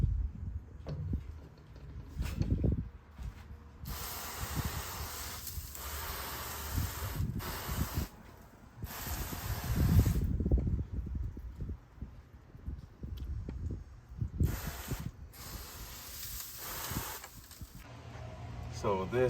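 Apple cider vinegar and apple juice spritzed onto a smoking pork shoulder: several short, hissy spray bursts up close, spaced a few seconds apart, over a low background with faint murmuring.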